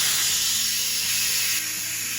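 Steam hisses steadily and loudly from the valve of a Crockpot Express pressure cooker releasing pressure after cooking chana masala, a continuous close-up rush that eases slightly near the end.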